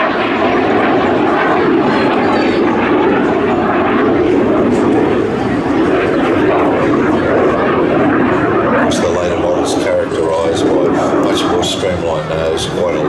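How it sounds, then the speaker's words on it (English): A BAC Jet Provost jet aircraft roars steadily at an air festival, a loud, continuous engine drone heard throughout with someone talking over it. "Look at that beautiful aircraft."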